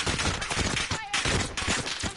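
Dense, continuous gunfire from an online match of the shooter game Warzone, loud and close, with overlapping shots and a brief lull midway, faint voices mixed in.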